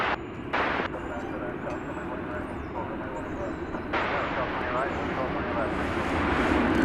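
A jet airliner takes off from runway 18 Left at Dallas Fort Worth (DFW) Airport, a steady broad engine roar that grows louder and fuller toward the end.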